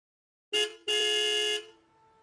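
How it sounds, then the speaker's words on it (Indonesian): Car horn sounded by a driver stuck in a traffic jam: a short honk, a brief gap, then a longer sustained blast, close and loud, followed by quiet. "Suara klakson yang kubunyikan di tengah-tengah kemacetan."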